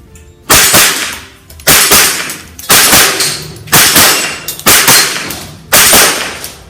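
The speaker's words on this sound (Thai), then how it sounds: "เดี๋ยวจะลองยิงนะครับแบบดับเบิลแท็บดูนะครับกับตัวทาวโวนะครับ" A Tavor rifle fires outdoors in quick double-tap pairs, giving six loud, evenly spaced sharp reports, each ringing off briefly before the next.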